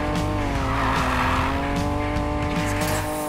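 Car drifting in Need For Speed Payback, engine roaring steadily under a long continuous tire squeal, loud and close for the whole stretch.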